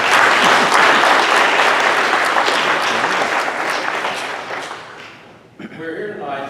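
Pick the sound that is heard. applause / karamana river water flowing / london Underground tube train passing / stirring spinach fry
applause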